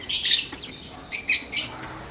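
Lutino lovebirds in a double economy cage give bursts of high, sharp chirps, two clusters close together then a gap and two or three more calls, fairly near and alone.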